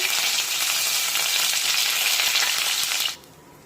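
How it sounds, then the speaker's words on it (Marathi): Cumin, mustard seeds and curry leaves crackling in hot oil, a loud, dense, bright sizzle held steady at close range for about three seconds before cutting off abruptly to quiet. "आता यामध्ये अर्धा चमचा जिरे टाकूया। जिरे पण छानपैकी फुटू द्यायचे। त्यानंतर कढीपत्त्याची पाने टाकूया।"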